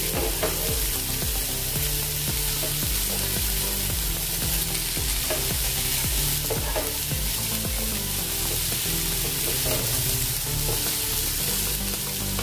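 Sabudana khichdi being stirred in a pan, with a steady scraping and clinking of the spoon under a continuous soft sizzle, close and alone for the whole stretch.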